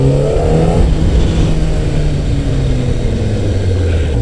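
Kawasaki Ninja ZX-10RR 2017 motorcycle accelerating on a public road, its engine note rising through revs then dropping on a shift and climbing again, loud and close with steady wind noise and no talk.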